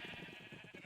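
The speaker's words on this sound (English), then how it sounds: "There's the sheep." Sheep in the Minecraft video game bleating, a quick series of short wavering bleats over a steady hum of game ambience, fairly faint.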